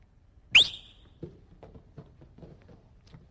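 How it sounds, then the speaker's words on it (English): Referee's whistle starting a wrestling move in a freestyle wrestling demonstration, one sharp, loud blast, followed by faint thuds and light movement noises from the mat. "On the whistle, Derek starts"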